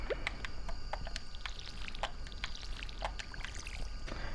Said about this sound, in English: Go ahead and water those.